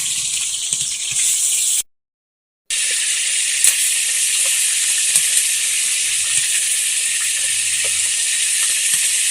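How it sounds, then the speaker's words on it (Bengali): Onions fry in a pan with a loud, steady sizzling hiss that runs throughout, broken by one brief silent gap near the start. "পেঁয়াজ ভাজা হয়ে গেছে"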